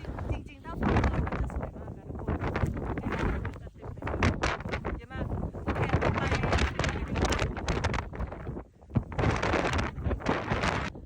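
Strong winter wind in Iceland buffets the microphone in heavy, uneven gusts that roar and drop away over several seconds, with a voice speaking intermittently beneath the blustering.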